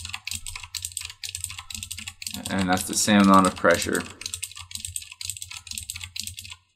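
Fingers type on a mechanical keyboard whose QWE keys are fitted with rubber O-rings, giving a rapid, close run of key clicks that continues under a man's speech in the middle.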